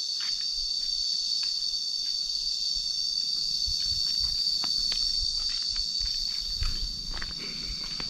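Cicadas shrill in a Cambodian jungle, a steady high-pitched drone holding throughout, with scattered faint clicks and rustles beneath and no talk.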